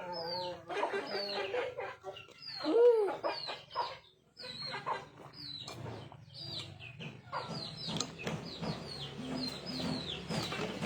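Several chickens cluck and squawk close by in a busy, irregular chorus, with a rooster-like call rising briefly partway through and a short lull before the clucking resumes.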